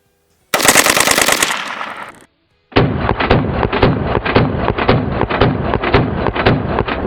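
An AK rifle with a three-position forced reset trigger fires a long, fast continuous burst, then after a brief pause a second rapid string of evenly spaced, loud close-range shots.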